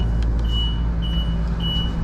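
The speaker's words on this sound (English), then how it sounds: "I'm going to turn off the beeping noise." Thin, high-pitched electronic beeps sound three times at a steady interval over a loud, continuous low engine rumble inside a 2020 Winnebago Intent 28Y motorhome.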